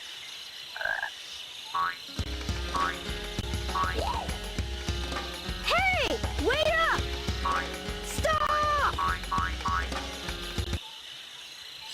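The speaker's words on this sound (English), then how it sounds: "Stolen by a goddamn frog." Frog croaking in the game Sonic Adventure DX, a run of loud warbling croaks and hopping sounds amid game noises, with a character shouting over it.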